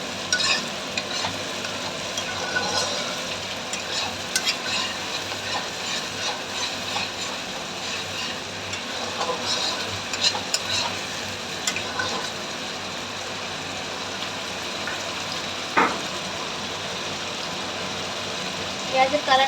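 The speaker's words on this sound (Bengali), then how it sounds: "পেঁয়াজ বাটাটা একটু ভাজা ভাজা হোক, কালারটা চেঞ্জ হোক, তারপর বাকি মশলা দেবো।" Onion paste sizzles in a hot pan and is stirred now and then, scraping and clinking softly against the metal in a steady close crackle. A voice talks at times over the frying.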